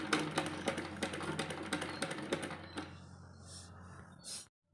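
A sewing machine stitching a straight seam on a small baby frock, a fast, even mechanical rattle close by that stops partway through, followed by faint handling noises.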